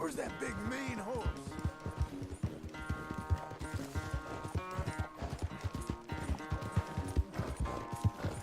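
Rhythmic hoof clip-clops in the video game Red Dead Redemption 2 over a busy musical score, with a voice speaking briefly in the mix.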